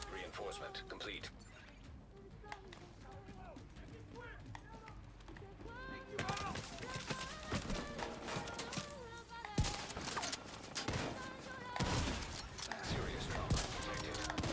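Gunfire in the video game The Division 2, with rapid bursts of shots, clattering mechanical weapon noises and louder volleys that build in the second half, all mixed with game music and effects.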